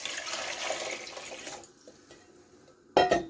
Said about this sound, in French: Je vais mettre l'eau, départ à froid.